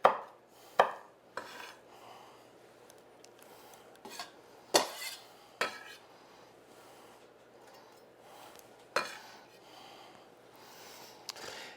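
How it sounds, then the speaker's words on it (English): Hot peppers being chopped into small pieces on a cutting board for grilled Chinese-style sweet and sour pork, heard as about a dozen sharp, separate knife strikes at an uneven pace against a quiet background, with no talking. "I'll usually take hot peppers and cut them fairly small"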